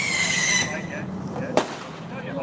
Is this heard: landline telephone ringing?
no